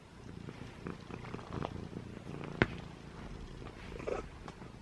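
A pet cat purring steadily while cuddling in bed with its owner, a continuous low rumbling purr up close with one brief sharp knock partway through.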